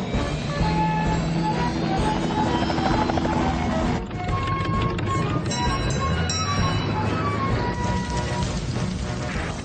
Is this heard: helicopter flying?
yes